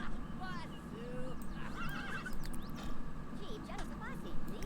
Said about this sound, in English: I'm getting tired of these horse noises.